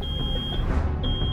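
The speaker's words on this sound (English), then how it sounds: "Oh no, something's beeping." A steady electronic alarm tone sounds in the video game Road 96, holding one pitch with brief louder pulses over a dense low background rumble, with no voices.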